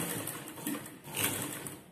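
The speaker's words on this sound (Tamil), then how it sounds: "இந்த ஓரத்தில் ஒரு தையல் போட்டு வந்துடுவோம்." Sewing machine stitching the edge of a lungi, a faint, fast mechanical whirring with small surges in level over about two seconds, heard alone.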